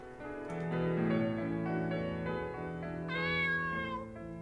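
A cat in the video game Chloe's Requiem meows several times in a long, drawn-out tone over a steady musical background, with one higher, brighter cry toward the end.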